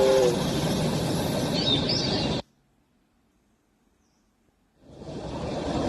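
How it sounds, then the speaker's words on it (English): A storybook train bound for Calcutta rumbles and clatters loudly with a faint high whistle. The sound cuts to silence partway through, then fades back in. "The train for Calcutta was leaving that night."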